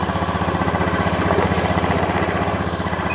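A Honda motorcycle engine with a sputtering misfire runs close and loud at a raised, steady fast-pulsing idle, its rhythmic throb continuing unbroken throughout with no voices.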